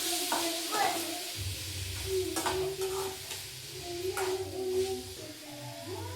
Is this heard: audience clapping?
no